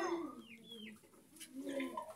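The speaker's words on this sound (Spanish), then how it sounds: "El pollito, ¿sabes?" Poultry near a home chirps and clucks in a few short, close calls with brief pauses between them, one of the birds a young chick.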